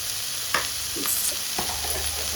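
Ginger sautéing in a pan for dosa masala, a steady sizzle with a few scraping stirs of a spatula, close and alone without talk.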